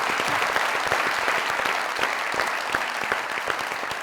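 Loud, dense audience applause fills the whole stretch for an actor on a Pakistani comedy talk show stage, steady clapping from a large studio crowd with no voices over it.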